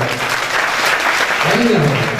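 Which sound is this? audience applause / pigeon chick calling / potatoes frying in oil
audience applause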